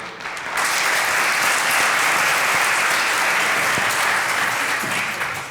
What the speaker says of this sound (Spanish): Así que recibimos a Jérôme Martí con un fuerte aplauso.